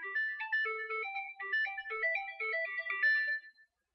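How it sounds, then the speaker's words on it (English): A home-made electronic theme tune for How to Fix It plays a simple bright synthesized melody of short chiming notes, stepping up and down at an even pace before stopping cleanly. "I can play you the first How to Fix It theme before I added in the tool code."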